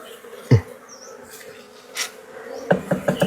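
Honeybees buzz around a hive where the queen is caged, a soft steady hum broken by a few sharp knocking taps near the hive.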